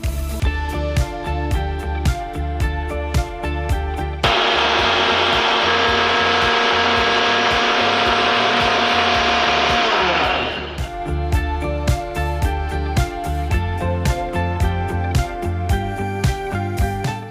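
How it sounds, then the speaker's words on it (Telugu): A kitchen mixer grinder runs for about six seconds, grinding ginger, garlic and fresh coconut. It is a loud, steady whir that stops abruptly, framed by background music before and after. "దీన్ని కూడా మిక్సీ పట్టేద్దాం"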